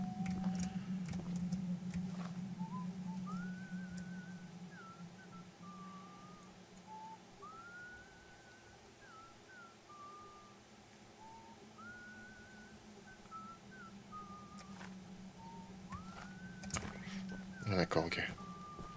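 A melodic tune is whistled over a steady low hum in the video game Choo Choo Charles, rising and falling in short phrases with brief pauses, followed by a louder burst near the end.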